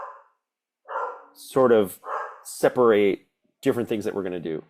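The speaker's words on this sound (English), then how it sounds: "sorry about the dog" A dog barks in several short bursts of harmonic yelps, loud and close, alternating with a man's speech in a room.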